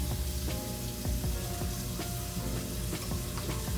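Food simmering in a pan in a hotel room kitchen in the Dominican Republic gives a steady, close sizzle with scattered light ticks and pops throughout, and no voices.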